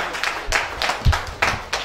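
Church congregation in Benin clapping to acclaim Jesus, a brief burst of scattered, uneven handclaps with murmuring voices mixed in.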